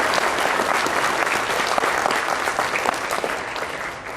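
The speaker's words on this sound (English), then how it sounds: "I would like to say one last round of applause for all of our ambassadors" Convention audience applauding the ambassadors at an opening ceremony, a dense, loud and unbroken wash of clapping lasting several seconds.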